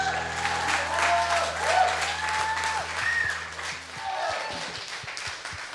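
A studio audience at a live music show applauds, a full, continuous roll of clapping with a few cheers and whoops rising above it, holding steady and loud throughout.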